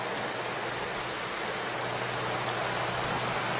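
Steady rain pours down with a constant, even hiss and no pauses or talking, in a rainy scene from a war film.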